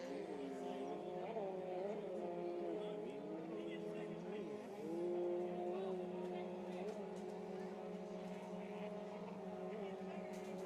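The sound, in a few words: two-stroke mod jet ski engines racing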